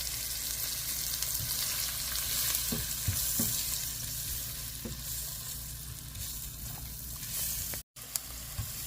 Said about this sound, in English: masala and the onions and the curry leaves are cooking up so nicely